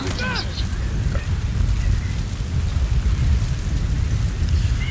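Howling wind and rushing sandstorm noise in Metal Gear Solid V: The Phantom Pain, a steady loud roar filling the whole clip with faint game cues near the start.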